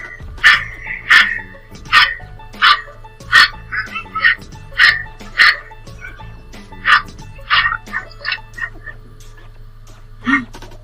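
A dog in the Ecuadorian highlands barks repeatedly in sharp, evenly spaced woofs, loud and close, with a few softer yips between and a low steady hum underneath.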